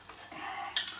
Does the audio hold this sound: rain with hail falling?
no